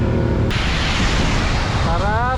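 Strong wind roars across the microphone during a ride through Boso-Boso, a loud, constant rush with a voice heard over it.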